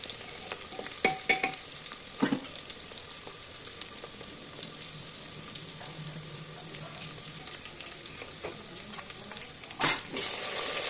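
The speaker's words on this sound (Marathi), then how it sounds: "लसूण कांदा टाकून घेतला आणि त्याला भाजून घ्यायचं आहे" Coarsely chopped garlic and onion frying in a pan for palak khichadi, a soft steady sizzle with a few sharp spoon-and-pan clinks and stirring scrapes, close by and fairly quiet.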